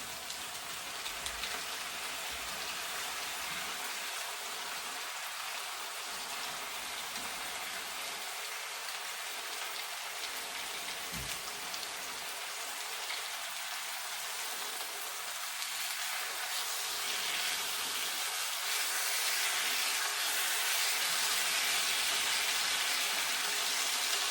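Thin-cut beef short ribs pan-frying, giving a steady, loud broadband sizzle and crackle that holds continuously throughout, with no voices.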